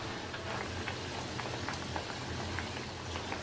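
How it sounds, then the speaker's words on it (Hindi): Khaja dough puri fries in hot oil over a low to medium flame, a dense continuous sizzle with crackling pops and bubbling spread evenly throughout, close and steady. "पूरी को अंदर डाल देंगे। लो टू मीडियम फ्लेम पे इसे फ्राई करेंगे।"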